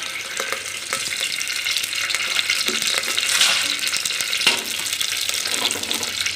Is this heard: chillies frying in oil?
yes